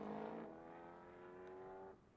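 Prototype race car number 154 at Motorland Aragon during an endurance race sweeps past on track, its engine note a steady, sustained drone holding pitch before fading away, fairly distant and without talk.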